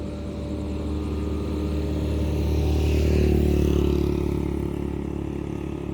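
A Honda Click and a Suzuki Raider Fi motorcycle drag race, their engines roaring loudly as they pass, with a steady mid-pitched drone swelling to a peak midway then easing off.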